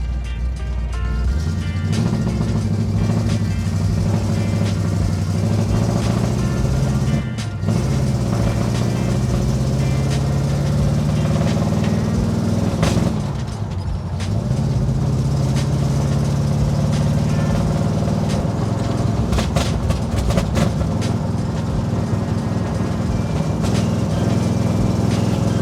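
A 1967 Pontiac GTO running Haltech EFI drives along with a loud, steady engine drone that rises and falls in pitch as it accelerates and lifts off, heard from inside the car throughout.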